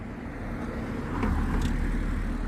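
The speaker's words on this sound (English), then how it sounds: "Just waiting for a break in the traffic" Roadside traffic noise, a low continuous rumble that swells as a vehicle passes midway, then settles into a steady wash of road noise.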